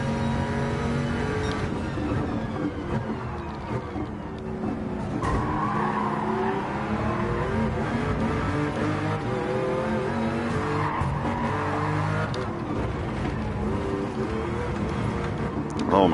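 Racing video game car engine with skidding and tire squeal, a steady loud engine roar under layered game sounds, with tonal whines and scrapes throughout.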